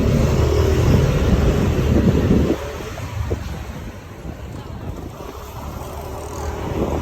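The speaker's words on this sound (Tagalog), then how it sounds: "Hangin na yun" Strong typhoon gusts buffet and roar against the microphone in Coron, loud at first, then easing to a lower, unsteady rush of wind.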